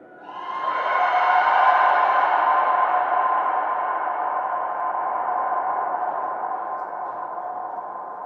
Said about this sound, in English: 17-second echo.